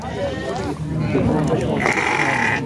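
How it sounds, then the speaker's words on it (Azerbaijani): Sheep bleat repeatedly at the Xaçmaz sheep market, loud and close, with people talking over and between the calls. "damazlıq qoyun da var 2 dənə, 3 dənə"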